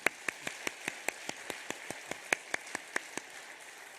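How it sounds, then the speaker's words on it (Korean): A church congregation claps toward God in worship, a steady, evenly spaced beat of about five claps a second, faint and fairly distant, stopping after three seconds. "저는 설교하기 전에 하나님을 향해서 박수를 올려드리며 찬양하고 높여드리는 건 정말 좋은 시간이라고 생각합니다"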